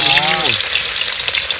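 Hilsa fish from the Matla river hits hot mustard oil in a wok and fries with a loud, dense, close sizzle. A voice speaks briefly at the start.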